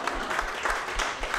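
A stand-up comedy audience applauds: steady, dense clapping from a full room that fills the short moment at an even level, with no voices over it.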